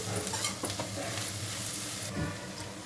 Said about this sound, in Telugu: ఆయిల్లో ఈ విధంగా ఫ్రై అవ్వాలి.